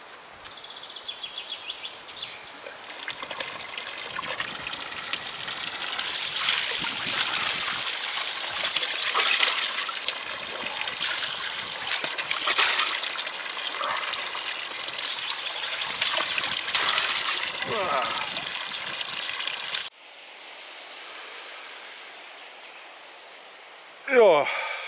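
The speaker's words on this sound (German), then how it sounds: "Rettung ist nah. Wasserhahn auf dem Friedhof." Water runs and splashes steadily from an outdoor cemetery tap, a continuous trickling stream that cuts off abruptly near the end, with faint birds in the background.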